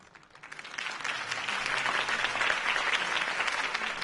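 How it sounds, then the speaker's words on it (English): Applause in a Batman video game swells from scattered claps into a dense, sustained ovation from a large crowd, loud and steady to the end. "could have heard that applause"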